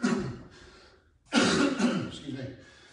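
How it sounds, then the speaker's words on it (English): A person coughs and clears their throat during a home workout, two close, loud bursts separated by a short pause. "I know you're not supposed to cough into your hand"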